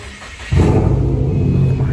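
A custom-built car engine turns over after a quiet moment and settles into a loud, deep idle rumble close by, holding steady to the end.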